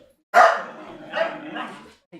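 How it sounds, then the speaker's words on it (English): A dog barks near and loud, one sharp bark followed by a couple of softer, drawn-out barks and a brief yip at the end. "No barking."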